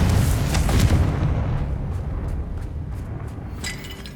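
Explosive spells go off in the Hogwarts Legacy video game: booming blasts with crackling bursts, heaviest at the start and fading into scattered pops and rumble, with no voices.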